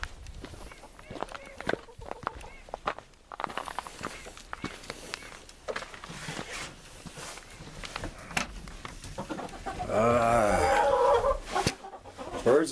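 Backyard hens fed greens cluck and squawk close by, with scuffling footsteps, a person talking throughout and a louder burst of excited clucking near the end.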